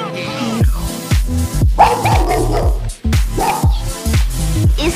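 A dog barks loudly and close by during a walk, giving a rapid, regular string of sharp barks that continues throughout with only brief pauses.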